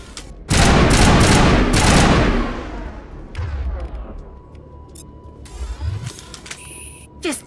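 Gunfire in the video game Mass Effect starts as a loud, dense burst of rapid shots that lasts a couple of seconds and trails off into scattered reports, impacts and electronic game effects.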